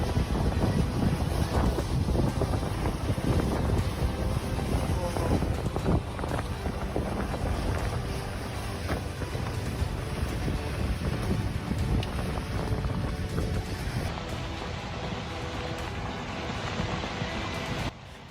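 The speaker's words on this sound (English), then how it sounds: "Tornado spinning in an open field as people filmed from a distance" Strong wind roars without a break from a tornado spinning over an open field, heavy buffeting on the microphone throughout and no voices, dropping off slightly at the very end.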